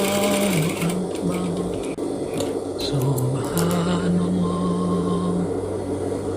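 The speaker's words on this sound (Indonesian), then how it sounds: "Untuk selanjutnya kita jahit keliling di bagian tepi busanya seperti ini." A sewing machine stitches around the foam edge of a child's cap, its needle chattering in a fast steady run with a humming motor, briefly pausing and restarting, with soft background speech.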